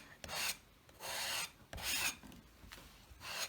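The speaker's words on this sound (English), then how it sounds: "I'm just going to scrape that off there" Acrylic paint being scraped across an art journal page during experimental mark-making, heard as four or five close, rasping scrapes, each about half a second long, with short quiet gaps between them and no voice.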